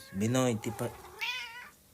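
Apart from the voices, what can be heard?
small cat meowing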